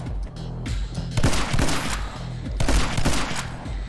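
Shotgun blasts in the side-scrolling action game My Friend Pedro, loud repeated booming shots in two bursts over game music, with no talking.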